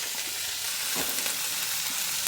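Crushed spice paste stirred into spring onion stalks frying in a pan for a thoran, a continuous close sizzle with a brief scraping stir in the middle.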